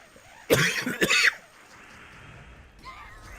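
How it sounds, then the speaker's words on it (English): Two harsh, close coughs in quick succession from a streamer, followed by quiet room tone and a faint brief sound near the end. "The cough needs to go away already."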